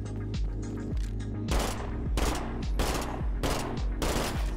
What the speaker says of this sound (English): Aim in their direction, see if I shoot any of them.